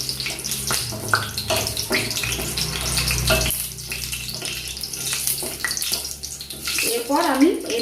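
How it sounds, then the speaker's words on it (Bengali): Chicken pieces frying in a pan for chicken maharani, giving a steady, close sizzle with scraping and clatter throughout. "এটা আমি এবার একটু ভালোভাবে ভেজে নেব।"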